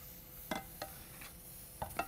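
A spoon stirs chicken poaching in a pan, giving a few sharp clinks and scrapes spaced apart over a faint, steady background hiss.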